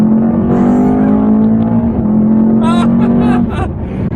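A 2019 Mercedes-AMG E63S accelerating hard through dual-clutch gear shifts: a loud, sustained engine drone that changes pitch around the shifts, with a brief voice near the end.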